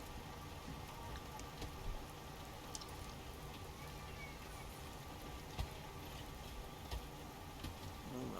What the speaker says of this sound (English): Ooh, I love these rain effects